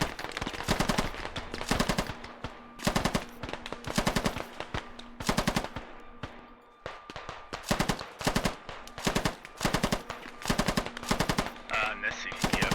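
Machine-gun suppression fire in the video game Squad: repeated loud bursts of rapid automatic shots, a dozen or so clusters in uneven rhythm, with short gaps between them.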